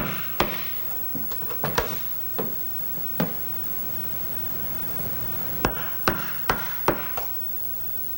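Hammer blows on a chisel cutting out a section of baseboard in a wall, sharp isolated knocks in scattered clusters with quiet pauses between strikes.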